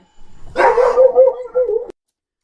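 A person imitates a barking dog with one loud, close, gruff bark-like yelp that stretches into a short whimpering growl, alone with no other sound.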